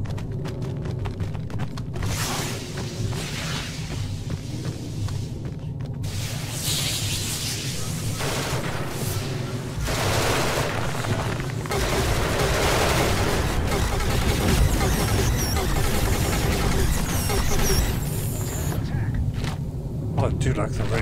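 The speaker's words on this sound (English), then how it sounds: "I do like the rate of fire of this gun" Gunfire from a weapon in the space shooter Genesis Alpha One, dense rapid shots and booms layered over a continuous rumbling backdrop throughout, loud and close, with people talking over it.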